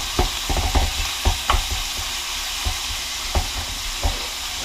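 Ground pork sizzles steadily in a hot pan while a utensil scrapes and taps sharply at irregular intervals, breaking up the meat close by for egg roll filling.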